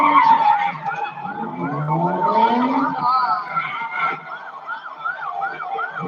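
Tires screech in long, wavering squeals as cars do donuts at a busy city intersection, with sirens wailing over a crowd and street noise.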